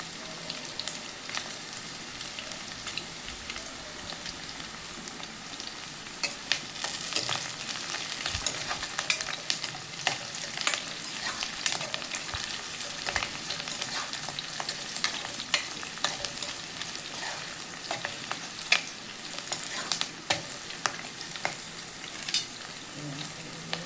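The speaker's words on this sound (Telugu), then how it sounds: "ఆనియన్స్ వేగేంత వరకు అయితే ఇలా కలుపుకోవాలి ఆనియన్స్ కొంచెం రెడ్ కలర్ వచ్చేంత వరకు అయితే వేగనివ్వాలి" Onions frying in a pan while being stirred for an egg tomato curry, a steady sizzle with repeated scraping stir strokes throughout, close and moderately loud with no talking.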